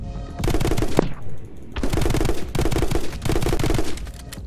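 Rapid automatic gunfire in the video game My Friend Pedro, loud sustained bursts of machine-gun shots with brief gaps, no talking over it.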